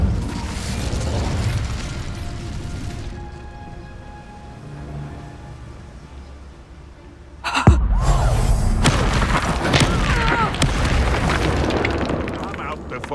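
An Incendio fire spell blast in Hogwarts Legacy: a sudden loud burst and roaring crackle after a quieter stretch, with game sounds and a voice around it.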